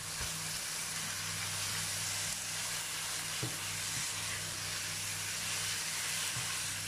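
Caramel and sugar melting in a pan on the stove, a steady soft sizzle and hiss with a faint low hum beneath and a few small clicks, no voices.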